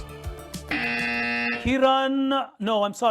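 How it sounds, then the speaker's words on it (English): A sustained electronic quiz buzzer tone sounds for about a second at a corporate quiz, followed by a voice speaking over brief tonal sounds. "Krishna is on the buzzer from RBI."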